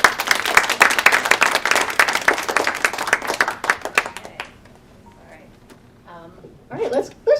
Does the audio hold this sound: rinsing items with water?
no